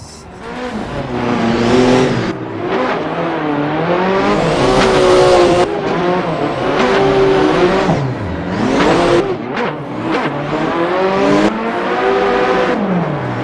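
A car engine in a drift racing video game revs hard and loud, rising and falling through repeated gear changes with wavering tones and brief tire squeals, the player voice absent.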